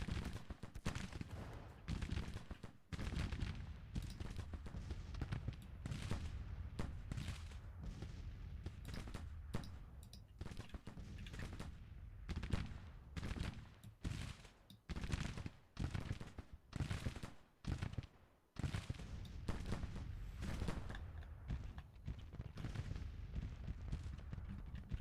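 Musket volleys and artillery fire roll across an American Civil War battlefield in a strategy game, dense repeated bursts of firing that continue with short gaps over a sustained distant rumble.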